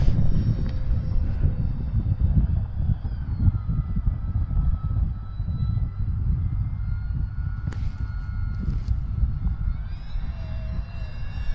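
E-flite F4U Corsair RC airplane, 1.2 m span on 4S power, makes a steady flyby at about half throttle: a continuous motor drone with a whining tone holding even across the pass, heard alone without talk.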